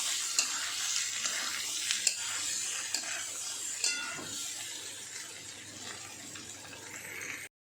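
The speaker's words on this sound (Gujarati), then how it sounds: "હવે જે બટાકા આપણે સમારેલા છે તે નાખી દઈશું આ રીતે અંદર તેને મિક્સ કરી લઈશું આ રીતે" Chopped potatoes being stirred in a frying pan for a dry potato dish, a steady sizzle with scraping spoon strokes and light clinks against the pan, moderately quiet and without talk.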